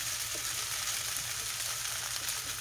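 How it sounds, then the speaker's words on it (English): Duck fried rice and vegetables sizzle in a hot pan, a continuous soft crackle of frying with no talk. "I stir fry the rice and the vegetable for a few minutes"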